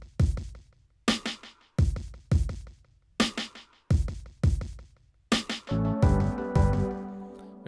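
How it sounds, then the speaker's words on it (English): Drums with an added delay effect, layered in to make a worship song bigger, hit in loud repeating bursts whose echoes trail off between strikes, then sustained chordal instruments swell in near the end. "We just added some more drums with some delay on them."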